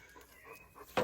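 A dog pants quietly in quick, soft breaths, close by, ending with a brief louder puff.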